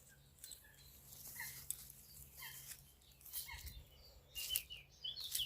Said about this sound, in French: J'en profite pour faire écouter un petit peu le bruit des oiseaux